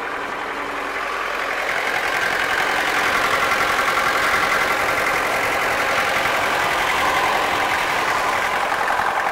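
Diesel engine of a CLAAS tractor idling steadily just after starting, a continuous rough rumble that swells slightly in the first seconds then holds even and loud, close by with no talk.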